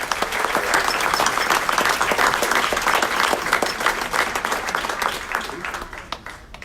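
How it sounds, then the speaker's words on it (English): A city council audience gives a round of applause for a ward representative, continuous dense clapping from many people that tapers slightly near the end, with faint voices underneath. "Big round of applause for Ward 7."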